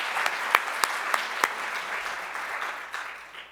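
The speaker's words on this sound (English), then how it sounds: "Another round of applause for an amazing presentation by Elizabeth" Audience applause after a presentation at a comedy-focused discussion event, a steady clapping wash with a few sharper individual claps standing out, fading toward the end.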